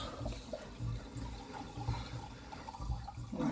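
A toilet that is hard to flush is flushed and the tank drains, giving soft gurgling water with rhythmic pulses, fairly quiet and close, ending in a louder rush.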